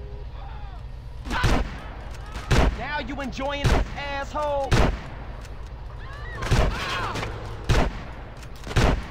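Gunfire in the video game GTA San Andreas Remastered, sharp loud shots in uneven bursts a second or two apart with a rapid volley in the middle, while someone talks excitedly and game voices play between the shots.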